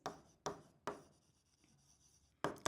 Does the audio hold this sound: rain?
no